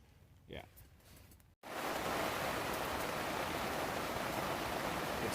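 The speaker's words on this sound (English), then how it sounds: "It's currently 5:16 a.m. and it is now raining." Steady rain falls outside a tent in cool early-morning weather, a dense, even hiss that starts abruptly partway through and continues loudly to the end after a quieter opening with faint voice-like sound.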